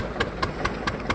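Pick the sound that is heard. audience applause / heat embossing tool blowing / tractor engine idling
tractor engine idling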